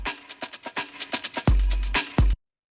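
Breakbeat drums pass through a drum bus with drive added for crunch, producing punchy, gritty kicks and crisp snares in a quick syncopated loop, loud and close with a heavy low-end thump near the end before stopping.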